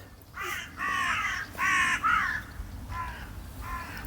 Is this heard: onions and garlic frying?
no